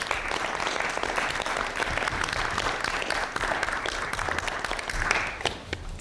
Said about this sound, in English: So let's give a round of applause to all of our panelists.